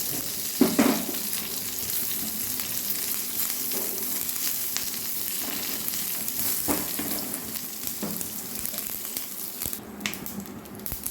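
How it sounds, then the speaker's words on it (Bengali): Curry leaves and mustard seeds fry in hot oil for a peanut chutney tempering, giving a soft continuous crackle and hiss with scattered pops and a few brief clatters, fairly quiet and without talk. "কারি পাতাটা অল্প একটু ভেজে নেব এরপরে সর্ষেটা দিয়ে দেব"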